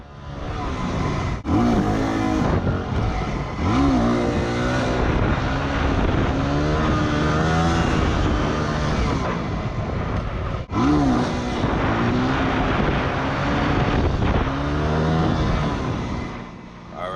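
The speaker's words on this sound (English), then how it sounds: "So here's a terrible wheelie for this kid" Motorcycle engine held at a loud, steady revving drone during a wheelie, with wavering pitch as the throttle shifts, close and continuous for the whole stretch with no talk.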